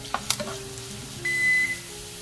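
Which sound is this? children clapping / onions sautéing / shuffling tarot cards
onions sautéing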